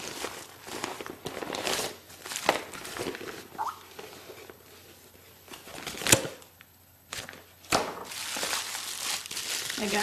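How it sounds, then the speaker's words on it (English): Crinkling and rustling as a mailed package is unwrapped, with red bubble wrap and a plastic bag being handled and a pull tab torn; close, irregular bursts of crackling plastic with sharp louder crinkles, no voices. "I got red bubble wrap, always a good choice, and a plastic bag."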